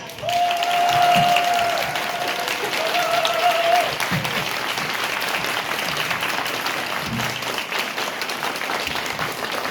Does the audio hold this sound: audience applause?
yes